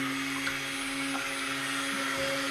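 A stick blender runs steadily while mixing soap colors and fragrance, a constant close motor whine with a faint hum and no pauses.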